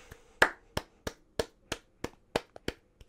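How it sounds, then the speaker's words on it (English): A man claps with his bare feet, making about nine sharp, evenly spaced slaps that are close and distinct against a quiet background. "Those were my feet clapping, not my hands."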